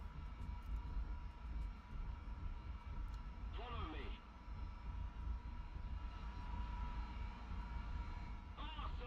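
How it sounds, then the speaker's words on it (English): A MiG-23 jet flies low in a combat flight video game, its engine a steady droning roar that fills the scene, broken by two brief warbling tones. "Ooh, that's a MiG-23 coming in low left."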